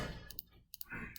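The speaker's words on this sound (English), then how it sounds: "How else could I type this into my calculator?" Calculator buttons pressed during a math lesson, a few short light clicks in pairs over quiet room tone, close and faint.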